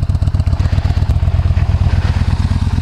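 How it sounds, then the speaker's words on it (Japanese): Exhaust of a Yamaha Bolt motorcycle heard while riding: a loud, close, deep V-twin thump with an even rapid pulsing beat, steady throughout, with no talk. "排気音は結構勇ましいです。"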